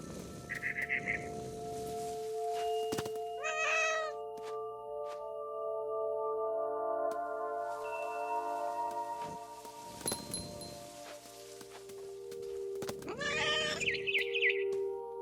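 A cat meows in What Remains of Edith Finch, a few short, clear meows spaced apart over a bed of steady game music tones and ambient sound, with no talking.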